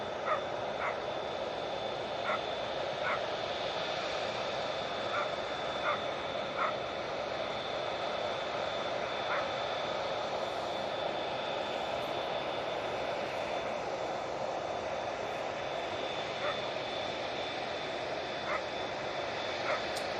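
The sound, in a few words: Finnair airliner departing Manchester airport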